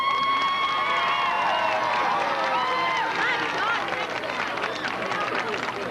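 A jubilant crowd roars and cheers at a 1985 high school marching band show in a muddy stadium, a dense, sustained wash of shouts and whistles with an announcer's voice over it.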